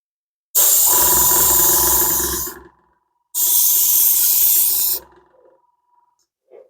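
Varnish sprays from an aerosol can onto the underside of an HO-scale Atlas Trainman GP38-2 locomotive, heard as two close, loud hissing bursts of about two seconds each with a short pause between, then quiet.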